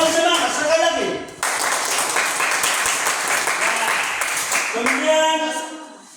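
A class bursts into renewed, livelier applause during a lesson, a dense wash of many hands clapping for several seconds, with a teacher's voice briefly heard before and after the clapping.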